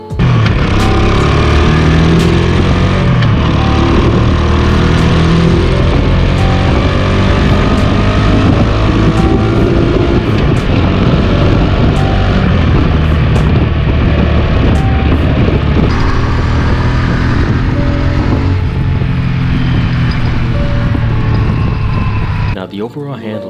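A 1985 Honda Shadow 500 VT500C cruiser motorcycle runs continuously, its engine drone loud and steady while riding through corners, with a voice talking over it before it cuts off at the end.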